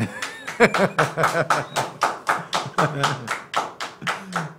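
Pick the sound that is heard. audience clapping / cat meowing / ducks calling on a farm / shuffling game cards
audience clapping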